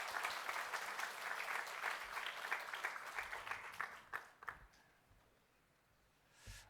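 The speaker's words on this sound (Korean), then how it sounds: "우리 청년부를 위해서 한번 다시 한번 박수 한번 해주시면 좋겠습니다." Congregation applause for a church youth group at a Korean church service, several seconds of steady clapping that thins into a few scattered claps and fades to quiet.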